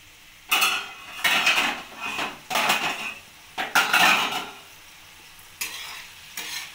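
A metal lid comes off a cooking pot of ash gourd on a gas stove, followed by a run of clattering, scraping stirs against the pot, several loud bursts with short pauses, close up and with no voices.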